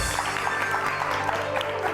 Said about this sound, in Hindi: बहुत सारी तालियां सुमेरा के लिए